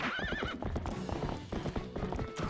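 Epona the horse in Zelda: Twilight Princess HD gives a wavering neigh, then hooves clip-clop steadily and close, game sound alone.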